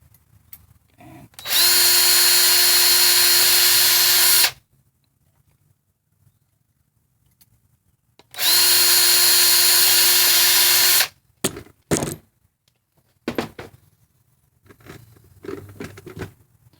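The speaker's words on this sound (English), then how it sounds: "The next 2 holes with the same 46 thousandths drill bit is just down from the one we just drilled" A drill bores small holes into a VW 09G transmission valve body in two sustained, loud, high-pitched whining runs of about three seconds each, with quiet gaps and small handling clatters between them.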